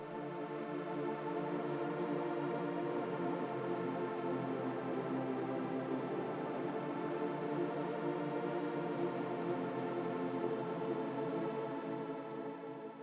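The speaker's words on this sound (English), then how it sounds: "So here I used a rather soft pad sound from Alien Sonic." A soft synth pad from Alien Sonic's Dark Room patch holds sustained, mellow chords with a slow attack, a smooth, quiet and continuous tone with no voices.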